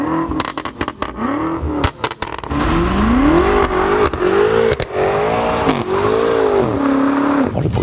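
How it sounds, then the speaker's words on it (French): BMW M5 F90 sedan, a 600-horsepower V8 fitted with an M Performance exhaust, revving hard nearby: sharp crackles and pops at first, then repeated rising and falling throttle blips with a loud, rasping exhaust note. "Écoutez-moi ce petit bruit avec la petite ligne M-Perf."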